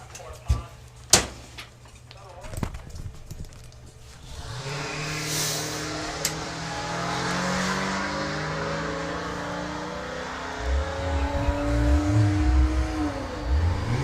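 Ford Mustang launches on a drag strip at a Ford car show, with a few sharp knocks and a voice nearby before a loud engine roar builds and holds, climbing through gears.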